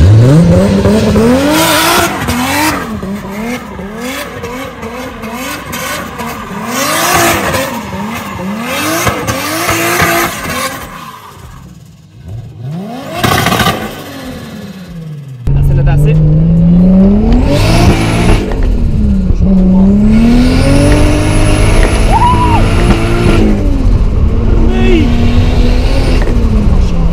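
A Toyota Supra MK3 with a 2JZ engine accelerating hard on a race track, loud rising and falling revs through gear changes with tire squeal, the engine roaring close throughout, a voice briefly heard underneath.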